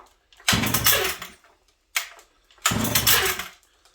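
A Sachs Dolmar 133 chainsaw, flooded with too much fuel, being pull-started on a bench: two long loud sputtering bursts of the two-stroke engine catching briefly, with a short cough between, close and without talk.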